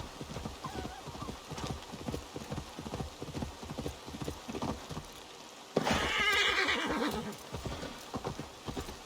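Hooves pound in a quick, steady galloping rhythm in the video game Assassin's Creed Valhalla, broken midway by a loud horse whinny before the hoofbeats resume.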